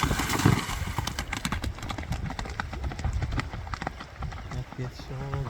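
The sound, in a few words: horse hooves clip-clopping as it is ridden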